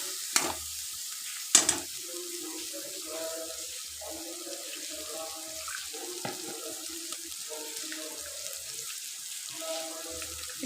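Mustard paste hits hot oil in a pan for a shrimp and potato curry. There is a low, uneven sizzle with bursts of bubbling, a couple of sharp clatters near the start, and intermittent stirring throughout.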